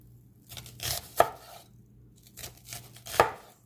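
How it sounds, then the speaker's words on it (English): Knife chopping and slicing onion on a cutting board for steak fajitas, a few distinct close thuds spaced about a second apart with slicing rasps between. "So I just cut my onion, and then I just slice it like that."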